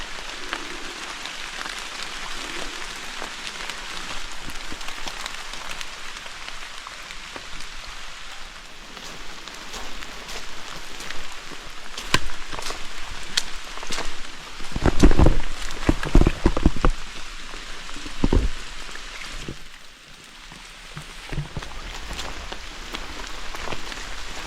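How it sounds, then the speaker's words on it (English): Steady rain patters on the forest around a hiker overnighting on Little Table Rock, a soft continuous hiss with scattered nearer drips and a few louder splashes and footfalls midway, no talking. "I'm happy it's raining"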